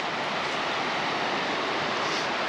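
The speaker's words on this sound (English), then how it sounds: "we're next to a lovely river" Steady rushing flow of a river beside an outdoor lunch spot in Wales near Hay-on-Wye on a rainy day, a continuous broadband wash close to the microphone with no talk.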